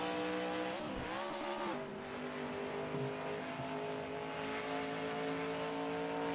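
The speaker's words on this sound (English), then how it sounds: "Riding on board Joey Murphy's truck here as the Target Energizer truck rounds the last corner" Onboard a Stadium Super Truck, the Target Energizer entry, on its final laps at Island Rally Raceway: a loud, steady engine drone with shifting revs and a brief tire squeal or skid through the last corner.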